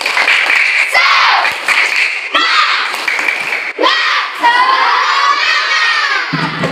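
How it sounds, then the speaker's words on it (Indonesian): Schoolchildren in a classroom shout a rhythmic spirit chant in unison with bursts of clapping, loud and close, their high voices dominating throughout. "kita tepuk semangat dulu ya"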